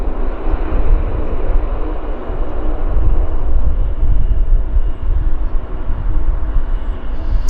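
Embraer airliner inbound from Seattle at Vancouver Airport, a loud, rumbling jet roar that holds steady with a gusty, wind-buffeted texture and no talk.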